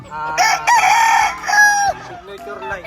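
Gamefowl rooster of the Scorpion bloodline crowing loudly and close, one full drawn-out cock-a-doodle-doo with a trailing end, followed by softer clucks, at a gamefowl farm in San Pablo, Laguna.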